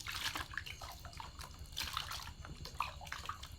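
Water splashing and trickling as feet are rinsed to wash off salt, a close, irregular series of small splashes and drips with no talking.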